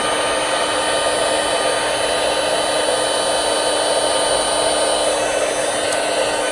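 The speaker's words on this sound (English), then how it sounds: "This is the Stampin' Up heat tool." A Stampin' Up heat tool on setting 2 blows a steady, loud, even hot-air whir for the whole stretch while melting clear embossing powder, with no voices.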